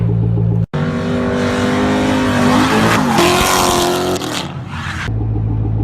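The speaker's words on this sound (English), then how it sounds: "Cut to the footage of him drifting his S13." A Nissan S13's engine revs loudly while tires squeal in a long continuous drift screech, close by, ending abruptly before the motor idles again.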